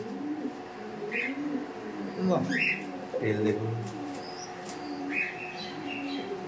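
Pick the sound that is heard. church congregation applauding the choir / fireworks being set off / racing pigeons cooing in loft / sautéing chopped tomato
racing pigeons cooing in loft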